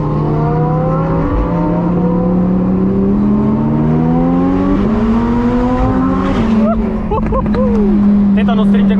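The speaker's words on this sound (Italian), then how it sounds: "E sentiamo ancora meglio le supercar." Supercars revving and cruising through Dubai streets, a loud sustained engine drone with rising and falling pitch, then sharper revs and shifting tones near the end.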